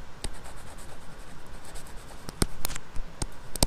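Marks are written on a board during a statistics lesson on the mean. The scratchy writing strokes are close and moderately loud, with a few sharp taps of the writing tool near the end and no talking.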